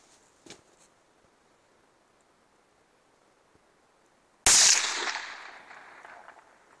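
A single sharp report from a small rifle fired by a young first-time shooter rings out once after a quiet wait, loud and close, then a short decaying tail into quiet.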